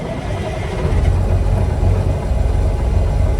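Cabover truck with 6-inch straight pipes idling after a cold start, a loud, steady low-pitched rumble that swells slightly after the first second and holds without talk.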